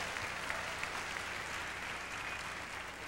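A church congregation at the Brownsville Revival claps steadily for about three seconds, a dense, even wash of applause at moderate distance with no voices over it.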